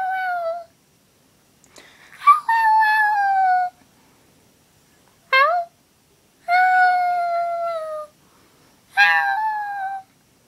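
A puppy cries and whimpers in a home, letting out several drawn-out, high-pitched wails with short pauses between them, close to the microphone.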